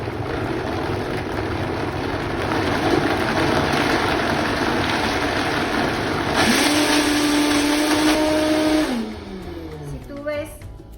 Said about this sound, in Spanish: Ahora vamos a licuar para sacar la primera leche